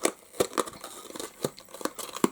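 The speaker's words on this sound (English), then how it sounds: "we can just fold over these tabs" Cardboard tabs on a craft purse box are folded over by hand, giving close, quiet crinkles and soft scratchy creases in an irregular series of short bursts, with no one talking.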